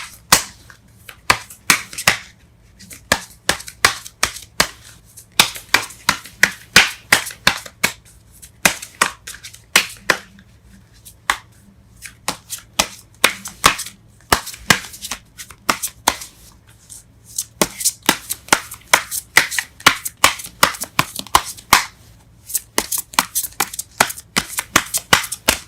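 Tarot cards are shuffled and pulled in rapid bursts of crisp riffling snaps and flicks, close and fairly loud, with short pauses between flurries and no voice.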